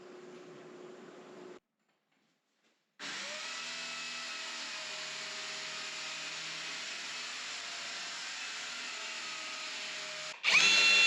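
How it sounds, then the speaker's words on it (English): A power drill working on a tractor shed build runs in a short burst, stops briefly, then drones steadily and loudly for about seven seconds, close by and with no talking. "I'm gonna retire this drill."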